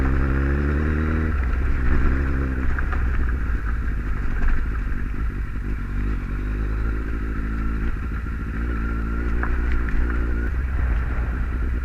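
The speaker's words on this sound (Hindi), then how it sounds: "तो आज थोड़ा JS भाई के बाइक के साथ थोड़ी ऑफ रोडिंग कर ली जाए।" A Kawasaki Z800 motorcycle rides off-road, its engine droning steadily up close with rattles, scrapes and crunching from the rough ground throughout.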